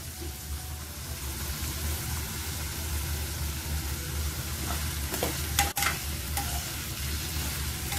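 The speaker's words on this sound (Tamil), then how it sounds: "இந்த எண்ணெயிலே நல்லா வதங்கணுங்க. இது வெங்காயத்தோட இந்த பூண்டு நல்லா வதங்கணும்" Garlic cloves and onion with curry leaves frying in oil in a pan for a garlic brinjal kulambu, a steady dense sizzle with a few stirring scrapes, close and continuous, no talk.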